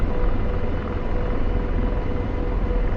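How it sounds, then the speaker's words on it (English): Apache helicopter flying in the DCS combat flight simulator, a loud, steady rotor and turbine drone with a low rumbling throb and no gaps, close and constant, with no voices. "Is that Apache or is that a Chinook?"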